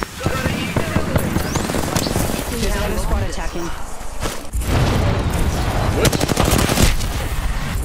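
Rapid automatic weapon fire and bursts of shots in an Apex Legends match, loud and close with a brief lull midway before dense firing resumes, mixed with game effects and players talking over it.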